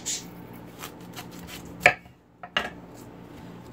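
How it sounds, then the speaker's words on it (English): A knife cuts through a wilted, partly trimmed cauliflower, giving two crisp, close chops onto a board with quiet pauses between them. "I'm going to cut up this cauliflower."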